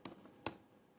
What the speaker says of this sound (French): C'est le clavier, hein, c'est pas moi.